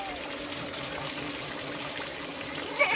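Water running from a hose into an animal water tank on a small farm, a steady close gush and trickle with no talk.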